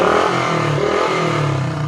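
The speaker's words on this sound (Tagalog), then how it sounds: "patay na ang susian yan pero pakinggan yung motor palyado" A Honda XRM125 motorcycle engine keeps running with the key switched off, misfiring with an uneven, rough clatter at steady volume, close and loud throughout.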